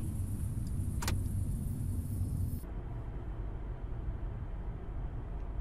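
A car drives in the horror video game Hungry Lamu: a steady, loud engine and road rumble with a brief high whine near the one-second mark, then a quieter, duller drone after a sudden cut partway through.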